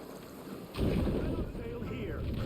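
A Viking longship in Assassin's Creed Valhalla sails across open water: a steady rush of wind and waves swells in after a quiet moment and keeps up a full, continuous roar.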